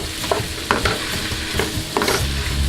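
Vegetables sweat in a pot for Jamaican curry chicken, with a constant low sizzle and repeated scraping strokes of a spoon stirring them.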